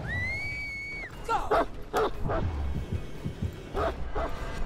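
The killer's dog in Dead by Daylight gives a few short barks and yips over game ambience, fairly close, after a brief whistle-like tone.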